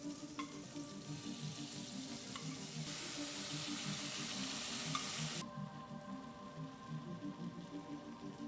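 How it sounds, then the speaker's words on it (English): Fresh San Marzano tomato sauce hits a hot pan and sizzles in a dense, steady crackle. The frying swells for a few seconds and then settles back to a softer hiss. "So I'm now gonna spoon in the super fresh tomato sauce."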